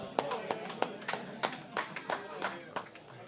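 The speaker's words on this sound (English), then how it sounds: "Round of applause." A small audience at a fight club event gives a brief, sparse round of applause, individual claps spaced irregularly and fairly quiet.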